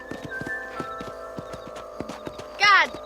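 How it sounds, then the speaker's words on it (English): A horse at a fence in the video game Red Dead Redemption clops its hooves in a steady, close rhythm, then lets out a short whinny near the end over a sustained tonal game backdrop. "Olha o cavalo agarrando na cerca."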